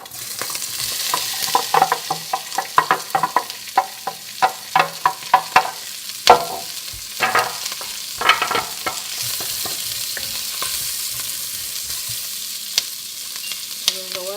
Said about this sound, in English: And in my next step, I will fry the onions.